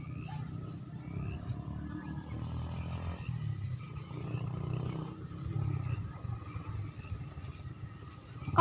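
Deep, rumbling water buffalo calls, low and drawn out, rising and falling over a steady outdoor background in farm fields in Nueva Ecija, with no talking.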